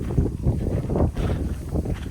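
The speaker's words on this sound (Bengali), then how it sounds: "দারুণ হাওয়া দিচ্ছে।" Wind blowing outdoors by a river beside rice fields in the afternoon, a steady loud rumbling gust buffeting the microphone throughout.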